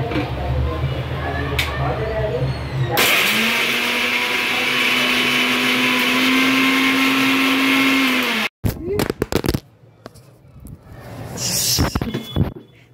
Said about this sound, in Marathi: आणि मिक्सरला लावूया